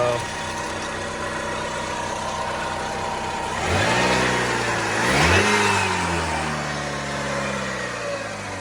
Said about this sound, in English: this engine's been sitting for a year, so it's running on year-old oil, year-old gasoline, and it still runs pretty smooth